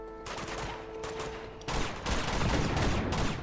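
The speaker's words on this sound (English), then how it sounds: "Would you stop shooting me?" Rapid bursts of gunfire in Uncharted 2, loud and close, with a short pause and a tonal hum before heavier firing resumes and continues to the end.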